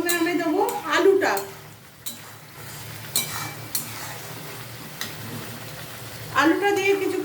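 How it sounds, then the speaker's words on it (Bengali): Potatoes stirred and fried in a pan of spiced masala that has started releasing its oil, for a jackfruit and prawn curry. Steady frying hiss with scraping spoon and clinking cookware runs underneath, while someone talks over it at intervals. "আলুটা দিয়ে কিছুক্ষণ কষাবো।"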